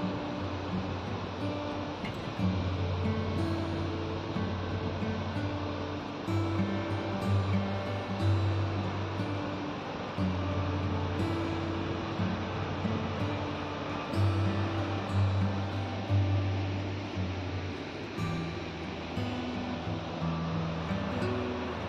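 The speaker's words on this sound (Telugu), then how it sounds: "550 అడుగుల ఎత్తు నుంచి జాలువారుతున్న ఈ జలపాతం" A waterfall over 550 feet high, Duduma Falls, roars steadily, a continuous deep rush of falling water with no voices and little change in loudness.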